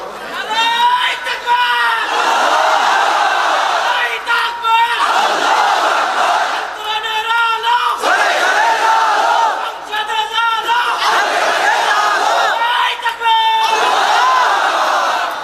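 A large crowd at a religious gathering chanting takbir, Allahu Akbar, in loud repeated call-and-response waves of many voices, with brief pauses between the rounds.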